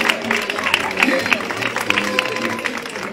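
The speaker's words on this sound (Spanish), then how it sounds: "¡Aplausos por Ignacia, que llegó al planeta Tierra!" Applause breaks out for a baby girl's birth as a crowd claps loudly and steadily under a voice that keeps talking.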